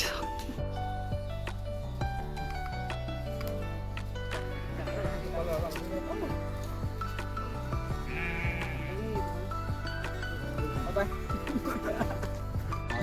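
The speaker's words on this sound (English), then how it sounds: "First time I saw the sheep in my life" Sheep bleat on a farm in Nagaland, several calls rising over a dense, steady background with voices present throughout.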